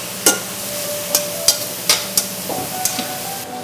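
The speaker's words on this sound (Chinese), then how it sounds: "所以这时候我们就可以翻炒一下咯。" Tomatoes and mushrooms stir-fried in a non-stick pan, with a steady close sizzle and a series of sharp spatula taps and scrapes against the pan at irregular intervals, without any voices.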